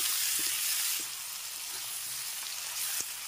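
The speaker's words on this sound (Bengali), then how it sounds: "আর আরো একটু ভালো করে নেড়ে চেড়ে মিশিয়ে নিতে হবে।" Spices and tomato pieces fried and stirred in a pan, a steady sizzle with a few light scraping knocks, loudest at the start and then settling lower.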